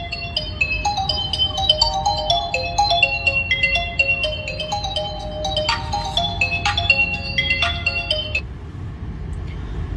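A mobile phone left inside a Tata Safari rings loudly with a bright, repeating electronic melody of quick beeping tones that runs for about ten seconds, with no talking.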